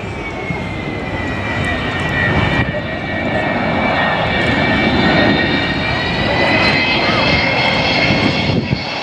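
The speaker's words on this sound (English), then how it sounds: "You can see those old turbojets, how they smoke." Old smoky turbojet aircraft engines at an airshow roar loudly and continuously, with a high whining tone sliding gradually downward as the plane passes.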